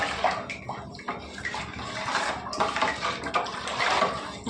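A spoon stirs lentil soup (pappu charu) with salt in a cooking pot. Wet sloshing and soft scraping against the metal pot continue without pause, up close, with no talking.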